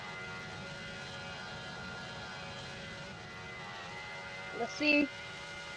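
A Roblox airplane engine drones at steady pitch with a tonal whine during takeoff, sustained and even, with a short spoken phrase and a brief bump near the end.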